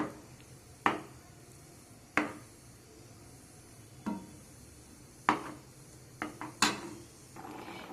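Milk powder is stirred into carrot halwa in a pan, with a spoon giving scattered single knocks and scrapes against the pan at uneven gaps over a quiet background.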